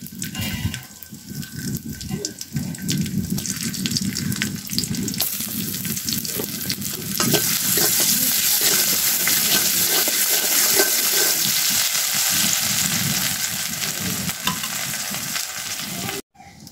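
Garlic and onion fry in oil for tempering a dal, a loud, close sizzle with stirring and scraping. It swells into a dense, steady crackle partway through and cuts off abruptly at the end.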